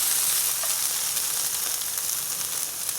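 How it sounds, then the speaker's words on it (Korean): Cucumber lightly stir-fried in a pan, a steady bright sizzle with faint crackles throughout, close and unbroken. "오이가 물러지면 안 되니까 슬쩍 볶고"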